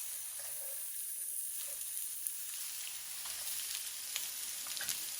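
Onions and whole green chilies fry in a pan for a chicken curry, giving a steady close sizzle with faint scattered crackles throughout.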